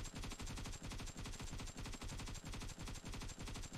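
Rapid automatic fire from an AKM rifle in the mobile shooter PUBG Mobile, a loud continuous burst of closely spaced shots with a steady rhythm and no pauses.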